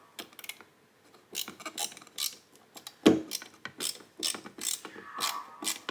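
A screwdriver turns screws out of a Mk1 VW Golf GTI Cabrio door, giving a run of close clicking ratchet ticks in uneven bursts with one louder knock midway, no talk.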